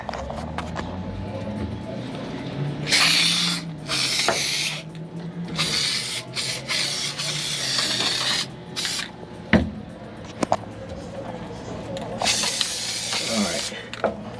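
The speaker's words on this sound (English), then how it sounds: "So I'm just going to spray it on there like that." Bursts of hissing spray from an aerosol can of adhesive, several sprays of a few seconds each with pauses, close up, with a person talking between them.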